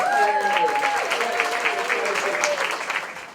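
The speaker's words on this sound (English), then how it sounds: "how about a final round of applause for our middle school players?" A final round of applause for middle school players at a Snowjourn 35th anniversary event, a dense steady crowd clapping throughout with some voices mixed in, fading slightly at the end.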